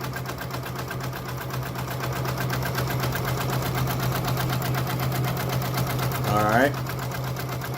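A Janome MB4 embroidery machine stitches an appliqué design with a steady, fast mechanical whirring and rhythmic needle chatter close by, and a voice briefly speaks over it.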